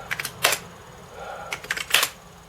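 Keys clatter on a Commodore Amiga A500 keyboard in two quick bursts of sharp clicks, close and fairly quiet, with a short pause between them and no talking.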